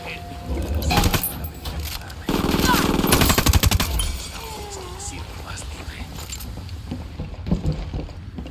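Gunfire in the tactical shooter Ghost Recon Wildlands on PC: a loud, rapid automatic burst with sharp repeated cracks dominates the middle, set among scattered shots and game background noise.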